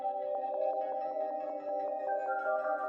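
A synth melody from the Analog Lab Island Key preset plays alone, soft and sustained with plucked note onsets in a steady, gentle rhythm.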